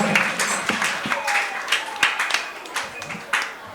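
Applause for a school team at an upper-primary maths quiz, scattered claps from a modest audience under background chatter and voices.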